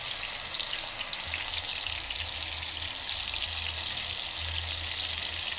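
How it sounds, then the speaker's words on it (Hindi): Pieces of beef frying in hot oil, a loud continuous close-up sizzle and crackle that holds steady throughout with no talking. "अब ये गोश्त हम फ्राई करेंगे।"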